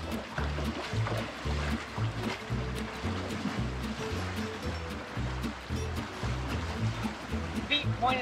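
Water from a hot spring stream in Taitung, Taiwan rushes steadily past someone's legs, a close, churning flow with rhythmic surges beneath people talking.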